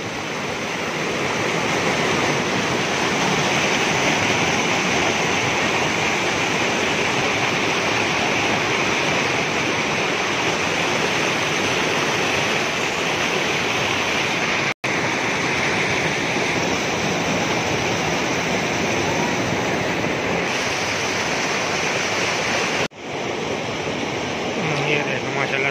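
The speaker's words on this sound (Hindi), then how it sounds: "पानी का शोर बहुत ज्यादा हो रहा है।" Loud, steady rush of the Neelam River near Sabri waterfall in Pakistan, a continuous broadband roar of fast-flowing water close by that fills the whole stretch without letting up.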